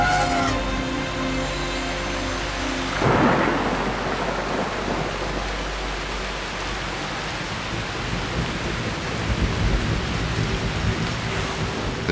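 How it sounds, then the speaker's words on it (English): Heavy monsoon rain pours steadily in South India as a deep roll of thunder rumbles through, a dense, loud storm with no voices. "From out over the Arabian Sea, the monsoon finally arrives in South India."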